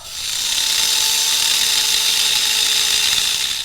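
A steady, high-pitched mechanical whine of a grinder running continuously and fairly close, grinding a metal part during a Ford Ranger lift install, with a constant tone and no voices.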